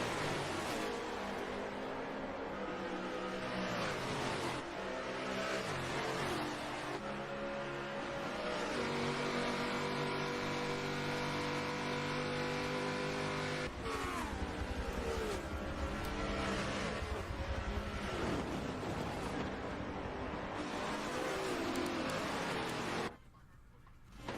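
Prototype and GT race cars battling at Watkins Glen in a racing video game, a dense, continuous roar of several engines revving and shifting close together, with rising and falling pitch sweeps until a sudden drop at the end.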